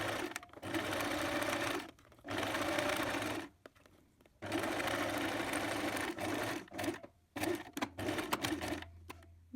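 Sewing machine stitching fabric scraps together for a large tote bag, running in several steady bursts of a few seconds each with short pauses between, close and clear.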